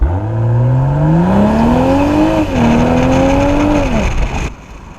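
A BMW M440i xDrive Convertible accelerates hard from a standing start, its engine note climbing steadily and loudly through the revs, dipping briefly at a gearshift, then rising again before lifting off.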